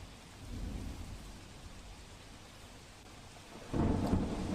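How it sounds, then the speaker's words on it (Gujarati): Heavy monsoon rain pours down in Morbi, Gujarat, as a dense, steady hiss with low rumbling underneath that swells into a louder burst near the end. "મોરબીમાં અત્યારે ભારે વરસાદ થયો છે"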